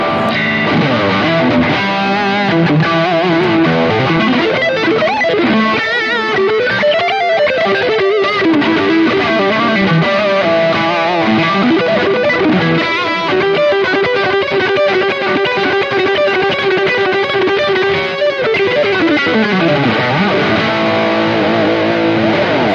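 Heavily distorted electric guitar through a Marshall Studio Vintage SV20 plexi amp with boost and delay plays sustained lead lines and riffs with echoing repeats trailing behind, loud and continuous throughout.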